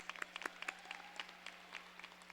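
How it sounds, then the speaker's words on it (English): Scattered, fairly faint applause from graduates at a 2013 Henry Ford II High School commencement ceremony, with irregular claps spread over a couple of seconds. "You can give yourselves a round of applause."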